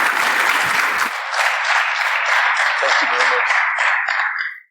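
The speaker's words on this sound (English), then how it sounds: "Can I have a big applause for José Ignacio LATORRE?" Applause from a conference audience for a speaker on quantum computing, a loud, dense wash of clapping that runs continuously for several seconds before fading out, with some voice underneath at the start.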